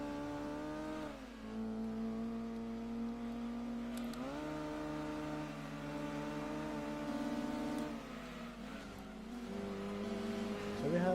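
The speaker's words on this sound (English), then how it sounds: "we can officially rev our engine up even higher" A front-wheel-drive race car in the Gran Turismo 2 video game revs its engine in rising and falling sweeps, a steady synthetic engine drone climbing in pitch between gear shifts, sustained and moderately loud.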